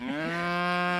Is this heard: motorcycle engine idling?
no